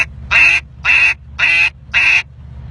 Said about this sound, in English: putting air into a call the exact wrong way, and it's still getting a duck sound to it